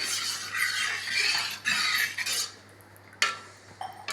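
Ragi cake batter with ghee being mixed in a bowl, a steady wet scraping and stirring sound up close, followed by a few sharper clinks of a utensil against the bowl.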